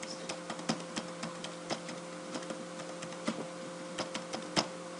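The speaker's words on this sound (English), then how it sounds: "let's just go ahead and type it in" Light, irregular keystrokes on a computer keyboard, quiet individual clicks and short bursts of typing with brief pauses, alone with no talk.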